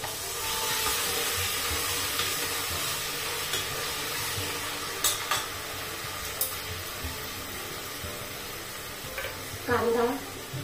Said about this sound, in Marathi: छान असं परतो द्यायचं आता हे आपल्याला.